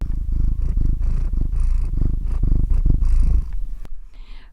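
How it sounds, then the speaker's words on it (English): A cat purrs steadily up close, a low continuous rumbling that pulses with each breath, then cuts off near the end. "Can you hear it? Let's do some cat ASMR."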